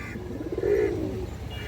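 Giribaz pigeons give a soft, low, rolling coo that swells briefly at mid-clip, close by and fairly quiet over faint background hum.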